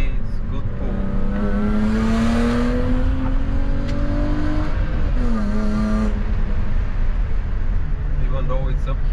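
A BMW 320i E36 coupe with a 150 hp engine and manual gearbox accelerates hard through city streets uphill. Engine pitch climbs steadily, drops at a gear change, then climbs again, heard from inside the cabin with brief talk.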